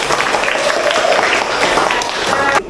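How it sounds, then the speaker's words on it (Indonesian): Students in a classroom applaud together at the end of a lesson, dense, loud clapping with a few voices mixed in that cuts off abruptly near the end. "Tepuk tangan untuk kita semua."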